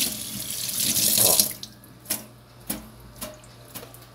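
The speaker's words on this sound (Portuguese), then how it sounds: "Água corrente sempre é bom" Running water gushes from a sink tap for about a second and a half, then shuts off, leaving a few faint drips and small clicks in a quiet room.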